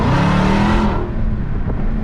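A Dodge Hellcat with a modified exhaust revs hard and loud up close, a dense roaring blast that drops off abruptly around the one-second mark into a lower, rumbling idle.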